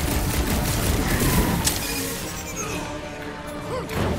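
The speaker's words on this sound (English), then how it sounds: "I hear way too much shooting!" Dense gunfire fills a firefight in the video game Guardians of the Galaxy, with repeated shots, crashes and impacts layered over loud battle noise throughout, and no speech.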